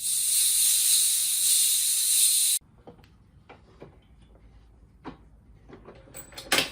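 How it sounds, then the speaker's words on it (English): Pressure pot for resin casting opened with a loud, steady hiss of escaping air for about two and a half seconds, cutting off abruptly, followed by quieter clicks and clunks of handling the lid. "Let's open the pressure pot."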